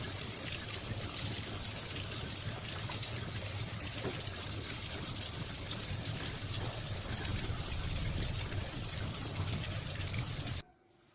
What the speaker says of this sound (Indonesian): Saya cuci tangan terlebih dahulu.